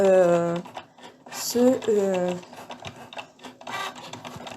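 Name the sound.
Cricut Joy cutting machine cutting a keychain design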